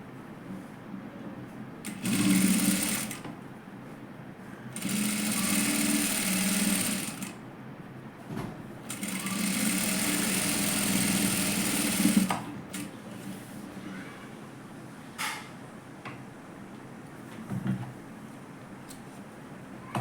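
A sewing machine stitches a katori blouse part in three long whirring runs of a few seconds each, separated by pauses with small clicks and fabric handling, close and fairly loud.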